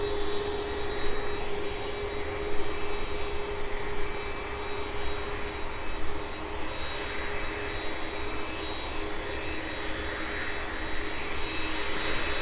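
A Boeing 767 jet airliner lines up on runway 09 for departure, its engines giving a steady, broadband whine and rumble at a distance that holds level throughout with no voices.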